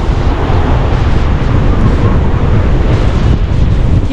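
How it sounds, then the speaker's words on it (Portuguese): Strong wind at a beach in Guarujá buffets the microphone in a loud, continuous roar, with no break and no voices. "Tá muito barulho de vento."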